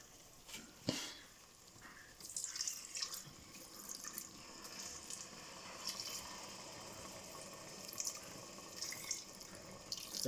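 Water trickling and splashing from a tap into a cooking pot of stew with crayfish and seasoning cubes, a steady running pour with faint kitchen clatter and no voices.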